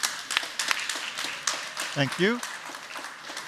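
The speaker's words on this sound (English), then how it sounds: "please a round of applause for Patrick" At a panel on AI and the public, the audience claps for Patrick Couch, an AI evangelist: scattered hand claps that fade as a nearby speaker's voice takes over and talks over the tail end.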